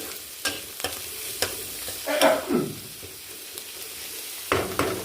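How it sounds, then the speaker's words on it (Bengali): Onion frying in oil in a pan, a soft steady sizzle broken by several sharp scrapes and clinks of a spatula stirring close by. "পেঁয়াজটা একটু ভেজে নেব"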